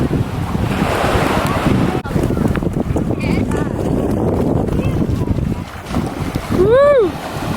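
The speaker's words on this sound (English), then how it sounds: "Waves right now." Ocean waves break and wash at Nauset Beach on a calm day, a continuous rushing surf under wind noise, with a short whoop from a voice near the end.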